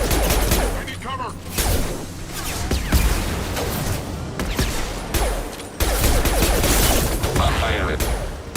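Dense gunfire during a Mass Effect 2 firefight, with rapid overlapping shots, booms and mechanical clatter that go on without a break, close and loud, with voices calling out beneath the battle.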